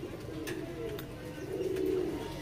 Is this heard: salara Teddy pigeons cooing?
yes